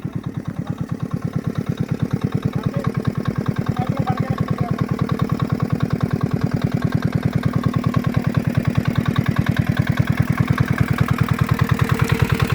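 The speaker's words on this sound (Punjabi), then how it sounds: "ਆ ਦੇਖੋ ਆ ਇੰਜਣ ਹੈ ਜੀ ਛੋਟਾ ਜਿਹਾ" A small engine pumping floodwater out of waterlogged cabbage fields in rural Punjab runs close by at a steady idle. It gives an even, rapid mechanical chug that continues alone without a break.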